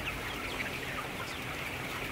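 A dense flock of 22-day-old broiler chickens inside a poultry shed makes a continuous, even din of overlapping clucks and chirps, steady and close throughout with no pauses.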